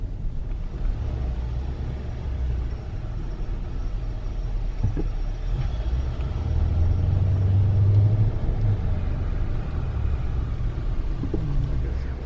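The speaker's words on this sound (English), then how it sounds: "We're waiting for Tom to park the car." Car engine idling and rumbling nearby as it is parked at a resort, a steady low drone that swells slightly midway, with faint background noise and no clear speech.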